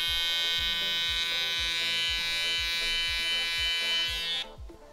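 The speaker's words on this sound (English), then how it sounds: "just use the very corner of the trimmer to go around the ear" An electric trimmer buzzes steadily and close while clipping fur around an animal's face and ears, one continuous loud whine with a regular pulsing rhythm that cuts off just before the end.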